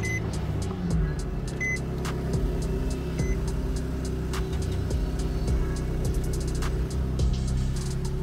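An Infiniti G35 with the VQ engine and stock exhaust idles after a cold start, a steady low mechanical drone running evenly throughout with faint ticking and clicks on top, and no talking.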